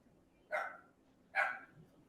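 A small dog barks twice in the background of an indoor setting, two short, moderately loud yaps spaced about a second apart over quiet room tone.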